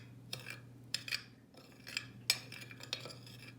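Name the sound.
mixing okra with spices in a bowl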